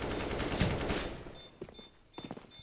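Gunfire in Counter-Strike on the Inferno map, with rapid bursts of shots crackling in a loud cluster early on, then a few sharper separate shots and short bursts after a quieter gap.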